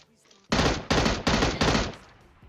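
Gunfire from a weapon in a video game, four loud, evenly spaced single shots about a third of a second apart, each fired separately rather than as an automatic burst, close and alone with no talk.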